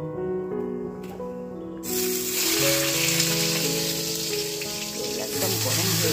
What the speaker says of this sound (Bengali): তো চলো বেগুন ভাজাটা বসে দিই